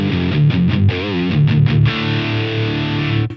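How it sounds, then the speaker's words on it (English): An electric guitar driven through a Noble Screamer overdrive pedal plays a few distorted, wobbling bent notes and then rings out on a sustained crunchy chord, loud and close, cutting off at the end. "So all the distortion comes from the noble screamer."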